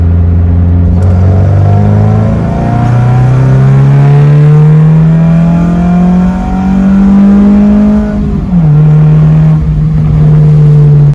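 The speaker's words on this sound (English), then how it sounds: "Here's a quick sound clip of the car. It's just phone in the hand," Mazda2 with a side-exit exhaust pulling hard in second gear on a street, recorded handheld close by: a loud, steadily rising engine note, a brief dip at the shift or lift near the end, then a steady drone.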